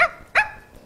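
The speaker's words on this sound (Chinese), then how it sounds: "大狗叫还是小狗叫，这都能选。" A small dog gives a single sharp bark near the start, then a second clearer, higher bark about a third of a second later, both close and fairly loud over a quiet background.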